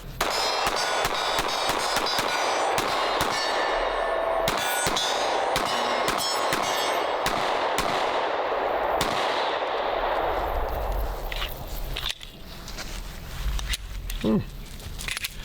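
Sig P365 X Macro pistol fired at a range: a rapid string of sharp, loud gunshots ringing with metallic clangs, then a quieter stretch with people talking.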